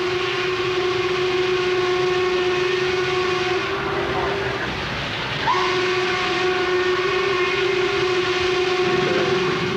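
The whistle of Norfolk and Western steam locomotive 1218 blows long and loud with a steady chime-like tone, dips briefly, then sounds again over the rumble of the train.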